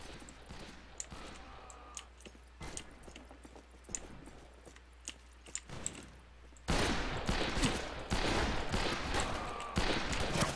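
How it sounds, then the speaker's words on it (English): Gunfire in the Western video game Fistful of Frags, including a coach gun: sharp isolated shots early on, then a loud dense burst of firing in the second half. "Oh, that was a fucking coach gun."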